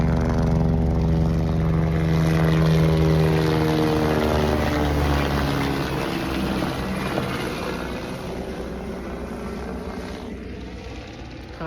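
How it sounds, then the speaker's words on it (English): A helicopter flies over the Everest Base Camp trek, its rotor thrumming loud and steady before slowly fading into the distance. "Another helicopter."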